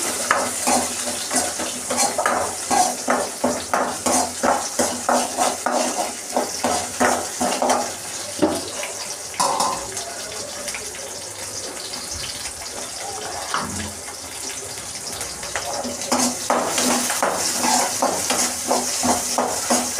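Small shallots frying in sesame oil for a Tamil fish curry, a loud steady sizzle with repeated rhythmic stirring and scraping strokes in the pan, close up and continuous with no talk.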